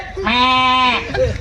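A performer's voice imitates a goat's bleat on stage in a Marathi tamasha comedy show: one sustained, quavering, nasal cry lasting under a second, then a short vocal murmur.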